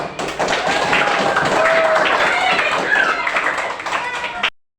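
A group claps hands together in a dense, continuous burst for several seconds, with voices mixed into the applause before it stops abruptly.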